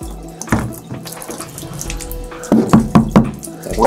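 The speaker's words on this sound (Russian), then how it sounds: "Это место наполняется водой." Water rushes and splashes into an enclosed space as it fills, with gurgling, dripping and a few knocks, loud and close with no speech.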